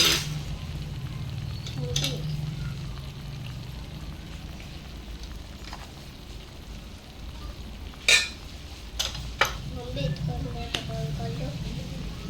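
Potato gravy sautéing in hot oil in a home kitchen until the oil separates, giving a steady sizzle with a few sharp utensil clinks and scrapes near the end and faint voices in the background.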